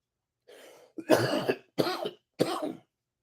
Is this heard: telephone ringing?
no